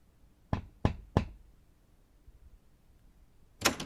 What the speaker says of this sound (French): Tu t'approches de la lourde porte noire pour actionner le heurtoir en forme d'aigle.